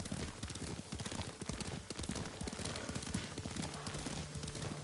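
Hooves of a ridden horse in the Ghost of Tsushima video game on PS5, a brisk, continuous clip-clop rhythm close up, with a brief faint voice in the background.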